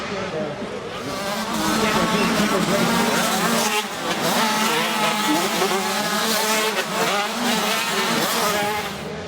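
Race cars and motorcycles roar past on a track, a loud continuous blur of engines rising and falling across the whole stretch, with crowd or commentary-like voices mixed underneath.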